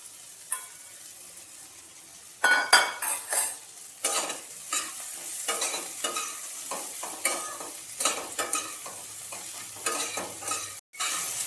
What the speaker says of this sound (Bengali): ভেজে রাখা আলু আর কাঁচকলা আমি এর মধ্যে দিয়ে দিলাম।